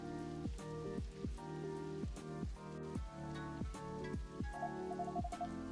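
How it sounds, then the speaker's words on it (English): A rain effect in the video game Coffee Talk hisses softly and steadily beneath gentle, rhythmic background music. "Oh, it's raining out there. That's a nice little effect."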